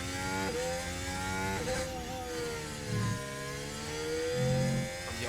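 A Formula 1 car on a qualifying lap at the Mexico Grand Prix, its engine climbing through high revs with repeated upshifts and brief dips, rising and falling in pitch at moderate level without voices.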